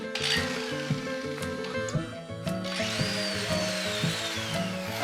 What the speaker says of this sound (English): I'm gonna go get my Milwaukee drill.